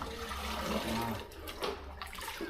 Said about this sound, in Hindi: ये पानी ऐसा डाल दिया